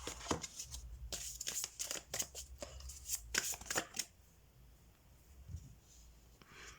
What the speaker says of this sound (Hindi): ये कार्ड्स बहुत बड़े हैं, मुझसे शफल नहीं हो रहे